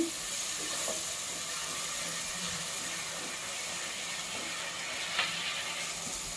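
Ginger garlic paste frying with browned onions in a pan while a Telugu country chicken curry is cooked, giving a steady soft sizzle with faint stirring scrapes, close and continuous, no talking.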